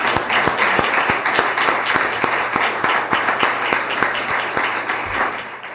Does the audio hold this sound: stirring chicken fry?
no